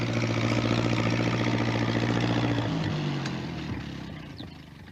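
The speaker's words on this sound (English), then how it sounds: "He's going to try to get through with his tractor" A tractor engine runs with a steady, loud low drone that holds for a few seconds and then fades as the machine moves away.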